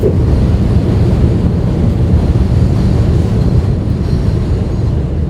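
Deep continuous rumble of a passing train on a Kensington, Philadelphia street, loud and close, holding steady throughout with wind noise mixed in.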